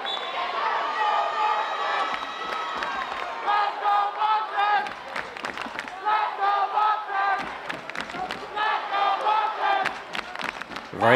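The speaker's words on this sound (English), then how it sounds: "Very lively crowd here in Taunton," Lively home crowd at a high school boys' basketball playoff game in Taunton cheers and shouts loudly and continuously, with bursts of roaring and sneaker squeaks over the steady noise.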